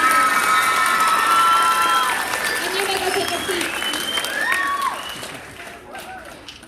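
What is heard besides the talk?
audience applause and cheering for solo ensemble teams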